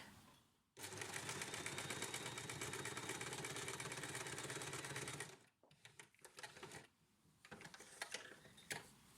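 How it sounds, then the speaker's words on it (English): A sewing machine runs steadily for several seconds while stitching the darts of a fabric face mask, then gives short, stuttering bursts of stitches as it reverse-stitches to reinforce them, close and clear. "What I also want us to do at the point of both darts is a reverse stitch"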